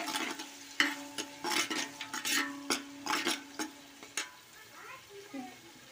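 Onions frying in an old, well-heated pot, with a soft sizzle under repeated sharp scraping and stirring strokes of a utensil against the metal, close and irregular, fading toward the end.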